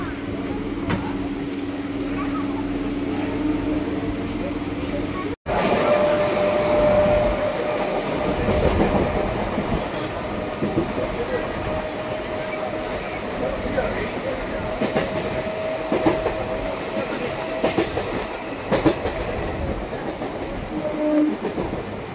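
A train rumbles along while riding in a railway compartment, with steady rolling and clattering noise throughout and a faint tonal whine. People talk intermittently over the noise.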